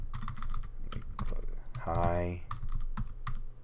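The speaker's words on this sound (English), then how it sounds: "I can type, my goodness" Rapid clicking keystrokes on a computer keyboard in quick irregular bursts, close and steady, with a voice briefly speaking over the typing midway.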